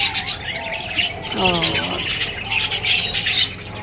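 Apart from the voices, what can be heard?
pet parrots squawking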